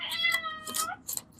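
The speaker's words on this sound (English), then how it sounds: "Can you hear my kitty?" A cat meows several times in quick, close succession, with short pauses between the calls.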